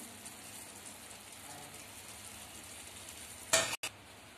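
Tomatoes frying in a pan with turmeric, chili powder and garam masala make a steady, low hiss and crackle while being stirred, ending in a brief loud scrape or clatter.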